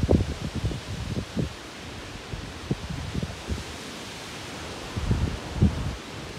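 Broadband wind noise with bursts of leaves rustling as wind rises ahead of a supercell thunderstorm with large hail in Bordeaux, gusting in waves at the start, midway and near the end, with no voices.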